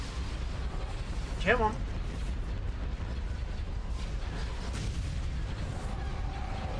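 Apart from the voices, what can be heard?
high velocity cannon firing in video game Star Wars Empire at War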